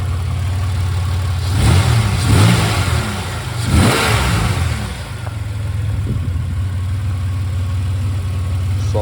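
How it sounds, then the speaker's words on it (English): A 2005 Buick Century Custom engine is revved twice in short, gentle blips over a steady idle, heard up close and alone, then settles back to a low, even hum. "I'll give it some baby revs."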